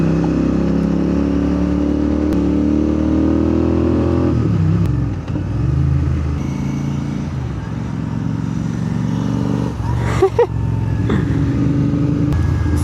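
A GT650 motorcycle rides through city-outskirts traffic, its steady engine drone loud and close throughout, with surrounding road noise and a brief swell of passing vehicles near the end.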